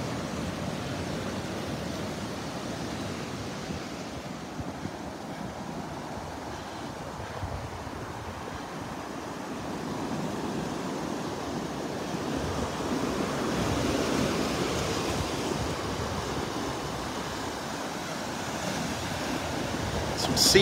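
Ocean waves washing onto a beach in North Naples, Florida on a Saturday morning, a steady soft surf wash with light wind noise, fairly faint and continuous, swelling slightly toward the middle.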